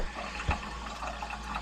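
A toilet flushes during a full rebuild, with water rushing and refilling the bowl and tank in a steady, moderately loud wash. A brief low thump comes partway through, and no one talks.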